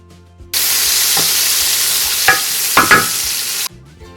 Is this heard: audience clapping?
no